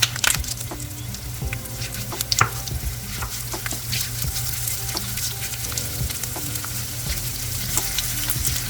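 Coconut pieces fry and sizzle in hot coconut oil with curry leaves in a pan for a Kerala long beans stir fry, a steady close crackle with occasional sharper pops and stirring scrapes, no talk.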